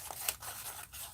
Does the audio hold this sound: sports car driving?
no